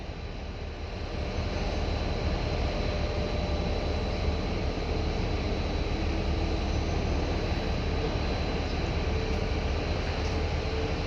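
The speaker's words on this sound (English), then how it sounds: "So the sounds you hear are the sounds of an industrial city." Industrial noise from Sheffield steel works on the River Don, with a dense steady low rumble and hum holding without breaks, moderately loud and distant, with no voices.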